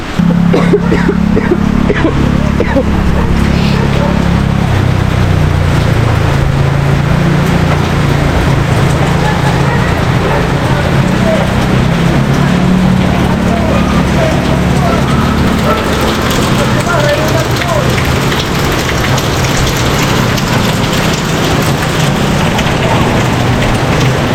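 Typhoon floodwater in Bicol rushing and roaring as a loud, continuous broadband wash, with voices faintly beneath it throughout.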